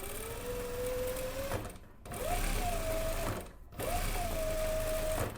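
A sewing machine, usable as industrial or domestic, stitches a narrow seam in three steady whirring runs separated by two brief pauses, close and clear with no talking.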